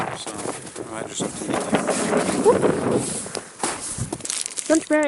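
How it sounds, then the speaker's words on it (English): Gusty wind rumbles and buffets the microphone throughout on a winter hike up the Miners Track on Snowdon, with voices talking over it. "I know, it's windy out there"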